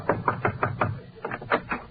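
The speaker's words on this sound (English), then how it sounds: "I can put a stop to that just by knocking on the senator's door." A knock on a senator's door performed as a 1945 radio show sound effect, with about ten sharp raps in two quick groups, close and loud against a quiet background.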